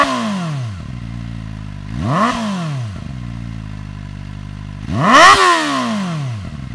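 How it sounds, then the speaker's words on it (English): Kawasaki ZX4RR motorcycle fitted with a Yoshimura slip-on exhaust and its sound insert, revving close by: a steady idle broken by two sharp throttle blips and one longer, louder rev that rises and falls, with no talk. "I think the ZX4RR with the Yoshi Slip On sounds better with the sound insert than without it"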